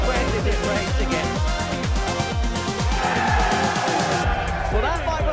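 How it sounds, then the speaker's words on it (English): A live darts crowd in a shootout session cheers and roars loudly and continuously, with a commentator talking over the noise. "that might well be the biggest cheer we see tonight"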